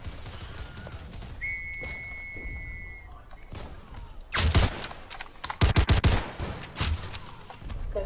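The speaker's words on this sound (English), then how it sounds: "where was that shots coming from?" Rapid bursts of gunfire from the war video game Entrenched crack loudly around the middle of the stretch, a cluster near the start and a denser volley later, over steady ambient battle noise.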